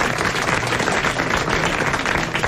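Dense applause from a studio audience on a 1988 French television show, a steady wash of clapping that stays loud and even across the short stretch.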